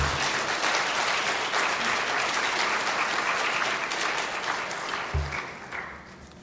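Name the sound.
applause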